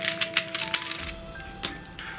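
A QiYi Warrior S 3x3 speedcube is turned by hand in a quick burst of clicky, rattling plastic turns that fade into a few scattered clacks, close and alone.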